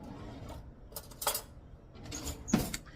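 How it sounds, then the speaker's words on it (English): A spoon being picked up and handled near a crock pot of beans and ham that has cooked for 24 hours: a few light metallic clinks and scrapes, close and fairly quiet, with no talking. "Let's grab a spoon"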